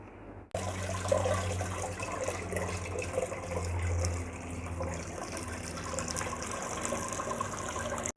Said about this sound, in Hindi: पोटैटो को मैंने ग्रेट कर लिया। अब हम इसको वॉश कर लेते हैं।